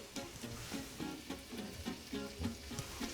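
Garlic and onions fry in olive oil with a steady close sizzle, while regular stirring strokes about twice a second rise and fall through the crackle and no one speaks.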